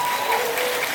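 Loud, dense applause from an event audience filling a lecture hall as the speaker is welcomed to the stage, a steady wash of clapping with no gaps.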